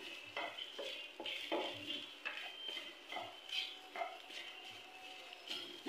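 Red chillies and tamarind being sautéed in a pan, quiet rhythmic metal scraping and clinking of a spoon stirring, with a faint sizzle underneath and no talking.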